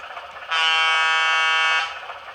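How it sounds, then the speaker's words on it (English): A single loud, steady air horn blast with a rich harmonic tone, held for over a second before cutting off cleanly. "Blow the horn."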